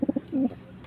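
A high-flying breeding pigeon gives a short run of soft, close coos, three quick pulses and then a longer throaty note.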